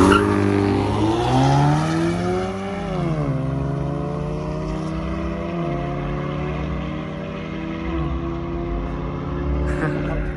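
Race cars at a track after a car meet: a loud, nearby engine revs and shifts up through the gears as the car accelerates, with engine drone carrying throughout and occasional speech.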